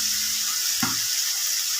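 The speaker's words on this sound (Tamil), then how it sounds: "இப்போ தக்காளி நல்லா வதங்கிடுச்சுங்க" Tomatoes sautéing in oil in a pan, a soft continuous sizzle with one short scrape or stir in the middle, fairly close and without talk.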